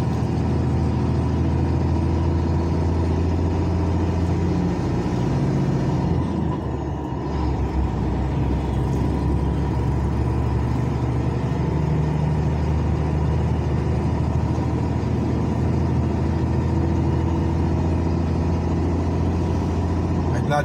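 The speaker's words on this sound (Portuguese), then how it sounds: "Caminhão de esparramar concreto." A truck engine drones steadily on the BR 101 highway in Alagoas, Brazil, passing a concrete spreading truck at roadworks, with a low continuous rumble and road noise throughout and a brief dip midway.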